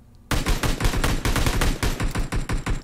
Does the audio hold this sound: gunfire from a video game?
yes